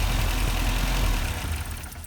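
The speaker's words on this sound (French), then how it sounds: "Le moteur tourne" A restored Opel GT engine idles with a loud, steady low rumble close by, easing slightly toward the end, with no voices.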